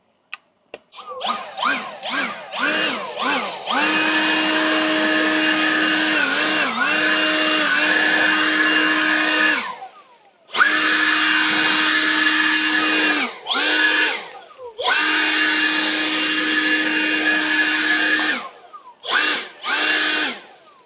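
INGCO cordless blower whirring in several sustained bursts, with quick on-off pulses at the start and short pauses between longer loud runs, close and steady with no talk.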